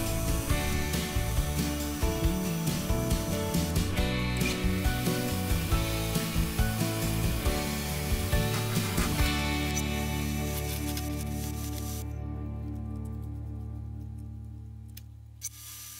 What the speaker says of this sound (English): Next up, milling the holes.